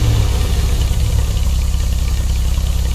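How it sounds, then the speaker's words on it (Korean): The Benefactor Sterling GT car in GTA 5 idles with a steady, low, throaty engine and exhaust rumble, even and constant throughout with no talk. "배기음이 가장 좋은 차로 뽑히는 차입니다."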